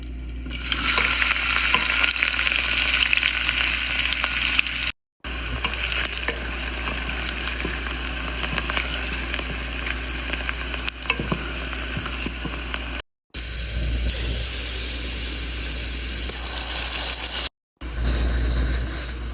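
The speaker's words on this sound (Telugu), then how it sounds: "ఆనియన్స్ వేసి అయితే ఫ్రై చేసుకోవాలి." Onions frying in oil with mint in a home kitchen, a loud continuous sizzle with stirring scrapes running throughout, briefly broken by a few short gaps.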